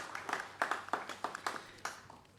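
Scattered, light clapping from a small audience at a national GST conference, about a handful of uneven bursts, soft and somewhat distant.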